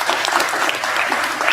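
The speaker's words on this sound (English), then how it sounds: "We could give a quick round of applause for him." A quick burst of audience applause at a Friday talk with a Yellowstone bear biologist, dense and close, many hands clapping together at full strength throughout.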